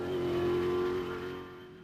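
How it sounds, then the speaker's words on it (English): Leading Toyota Hilux rally truck at the 2013 Sugarbelt 400, revving hard at speed with a steady high engine whine that swells then fades slightly as it passes, loud and alone. "They'll have to move it as the leading Hilux is going very quickly."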